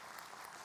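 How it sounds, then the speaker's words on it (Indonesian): Applause for a religious teacher on an Indonesian Islamic talk show, a brief steady burst of clapping from a studio audience, dense and even across the whole moment. "Tepuk tangan buat Ustadz Maulana"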